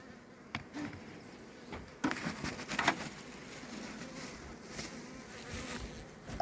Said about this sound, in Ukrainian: тут я бачу, що бджоли так прямо сильно прибавилось